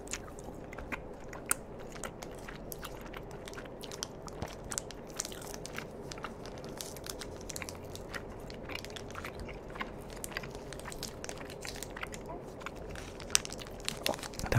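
Close, crisp chewing of an apple kiwi Mamba chewy candy, with soft rhythmic smacks and small crunches throughout, while a person talks quietly between bites.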